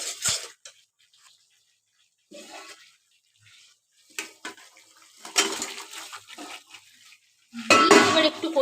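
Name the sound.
potatoes added to masala in a pan and stirred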